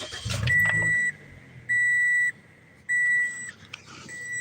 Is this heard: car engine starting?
yes